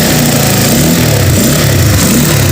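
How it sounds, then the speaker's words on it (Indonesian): A Honda CBR motorcycle engine idles smoothly and loudly up close, a continuous steady low mechanical hum and putter with no revving across the short stretch. "Suara mesinnya halus"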